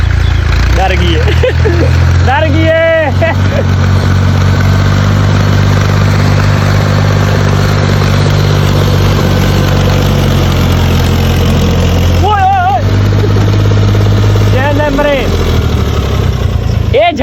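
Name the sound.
Massey tractor engine running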